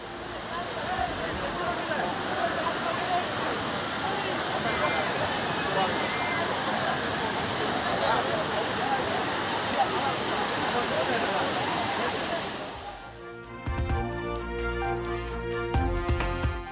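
Courtallam falls roaring with a bathing crowd, a loud continuous broadband rush of water heard up close, ending abruptly as music takes over near the end.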